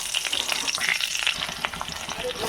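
Potatoes frying in hot oil with cumin, chili, bay leaf and garam masala give off a steady, close sizzle with crackling spits and occasional stirring scrapes, no voices.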